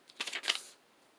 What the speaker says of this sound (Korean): 먼저 세모를 접어주세요.